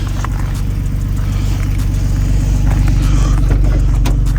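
Nissan G37 with a faulty VVEL module driving on the road, a steady low engine and road rumble heard from inside the cabin, fairly loud and constant, with no talk.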